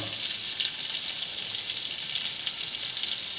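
Food pieces dropped into a hot pan of melted butter give a steady, loud sizzle that holds evenly throughout with no talking.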